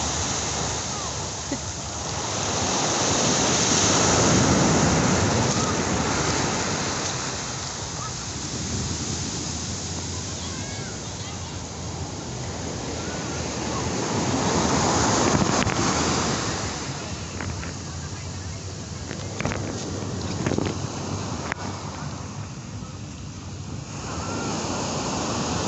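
Sea waves rolling onto the shore at Long Beach, Quezon, a broad, continuous roar that swells and eases, with wind buffeting the microphone and faint voices now and then.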